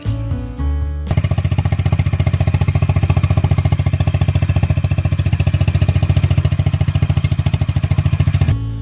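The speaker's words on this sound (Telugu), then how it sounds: "ఈ సైలెన్సర్ యొక్క బీటింగ్ చాలా బాగుంటుంది" A Honda 350RS motorcycle idles through its exhaust silencer with a close, steady thumping beat, an even rapid pulse that runs for several seconds after a brief start and then cuts off.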